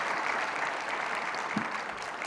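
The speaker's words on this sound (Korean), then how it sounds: "박수 한번 드리십시다" A church congregation at a Sunday worship service gives a soft, steady round of applause, moderately distant and even throughout the short stretch.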